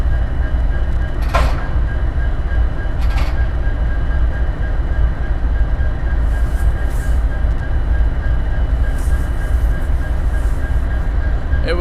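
A Norfolk Southern SD60E diesel locomotive train rolls past at night, a loud, steady rumble of wheels and rail noise with a couple of sharp clanks early on and faint high squeals later.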